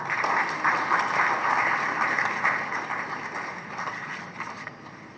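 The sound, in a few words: audience applause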